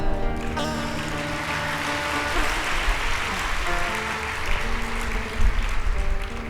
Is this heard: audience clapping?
yes